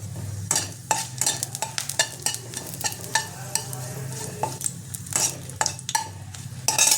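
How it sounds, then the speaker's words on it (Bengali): Bay leaf and dried red chilli sizzle in a small amount of hot oil for a Bengali sorshe posto chachchari. A steady frying hiss runs under repeated sharp scrapes and knocks of a spatula against the pan. "এবার আমি ফোড়নটা দেবো, দিয়ে দেবো তেজপাতাটা, শুকনো লঙ্কাটা একটু ফাটিয়ে দেবো"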